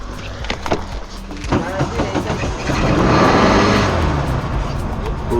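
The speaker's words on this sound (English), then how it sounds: "this is definitely a cool way to ride around on the back of a Bugi" Open dune buggy carrying a rider on the back on Fernando de Noronha, Brazil, its engine droning and swelling steadily with road and wind rumble, loud and close throughout, with voices briefly heard over it.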